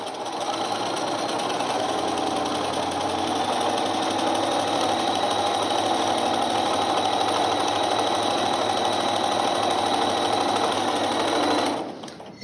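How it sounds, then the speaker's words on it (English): A sewing machine runs steadily while stitching quilt block seams, close and loud and continuous with a fast even whir for about twelve seconds, then stops abruptly. "now we're going to sew both those seams to finish up our pieces"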